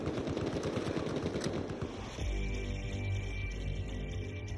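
Rapid automatic gunfire from a gun in Battlefield 4 rattles in a dense burst for about two seconds, then gives way to a droning mechanical hum and game ambience.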